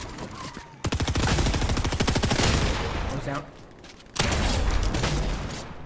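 Rapid bursts of automatic gunfire from a duos shooter video game, a long rattling volley and then a second sustained burst after a brief lull, loud and close with no voices.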